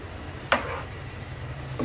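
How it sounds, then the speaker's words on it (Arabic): Pasta sauce is stirred in a pan: a quick scraping sweep of a utensil, then another brief scrape, over a soft background sizzle. "هقلب الصوص بتاعي من وجهة للتاني عشان مش ينشف."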